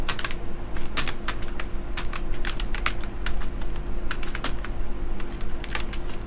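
Names being typed on a computer keyboard while filling in a job application form, with quick bursts of clicking keystrokes in irregular runs and short pauses, close up over a steady low background hum.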